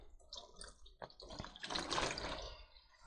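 Water drips and trickles from freshly watered orchids as they drain, with faint, close patters building into a soft splashing run.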